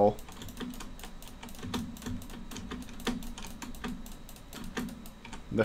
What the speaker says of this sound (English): The furious clicks of my keyboard.